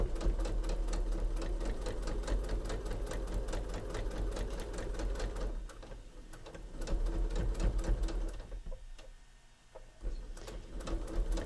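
A sewing machine runs in steady rapid stitching bursts while piecing a fabric mat, pausing briefly and then resuming, close and fairly loud with no talking.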